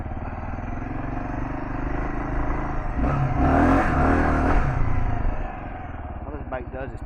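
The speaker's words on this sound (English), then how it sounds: "All this bike does is peel out." A Kawasaki KLR650 motorcycle on an off-road hill climb revs up loudly and peels out in a burst of engine roar midway, then drops back to a lower, rougher idle.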